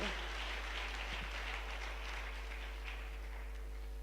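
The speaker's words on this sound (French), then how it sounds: "Acclamons très fort pour Jésus." A church congregation applauds for Jesus with a soft, steady clatter of clapping hands that sounds somewhat distant, beneath a low background hum.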